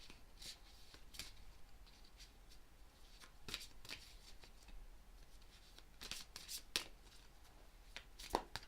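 Tarot cards being shuffled by hand during a reading, a quiet, close series of riffling flutters and soft card snaps repeating irregularly throughout.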